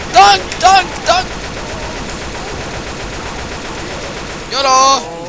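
Gunfire in Left 4 Dead 2 cracks out in a few short, loud bursts early on, then gives way to a noisy game background before one more burst near the end.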